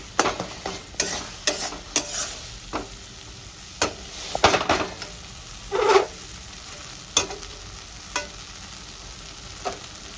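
Masala with melted tomato fries for a rohu fish curry, a low steady sizzle broken by repeated sharp taps and scrapes of a spoon stirring the pan, close and without talk.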